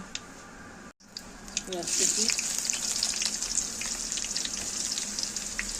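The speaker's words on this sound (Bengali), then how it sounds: "গরম মশলা ফোড়ন দেওয়া হলো, তেজপাতা, শুকনা মরিচ, জিরা," Bay leaf, dried chilli and cumin hit hot oil for a tempering, starting after a brief clatter and swelling into a continuous close sizzle with light stirring, with a voice talking faintly underneath.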